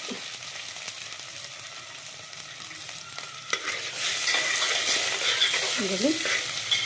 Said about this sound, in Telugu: ఇది మంచిగా రోస్ట్ చేయండి. అటు ఆనియన్స్ కూడా రోస్ట్ అయిపోతాయి.